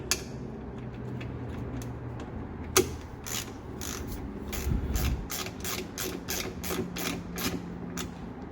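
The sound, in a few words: ratchet tightening bolts with 10mm socket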